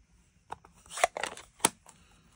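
Small fussy-cutting craft scissors snip around a stamped paper image, giving a few sharp, close crisp cuts with brief paper rustling between them and quiet gaps.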